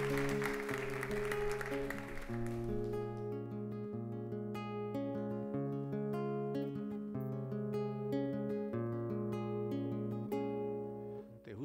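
An audience applauds to welcome a performer back to the stage, a loud burst of clapping that fades within a few seconds as a band begins playing.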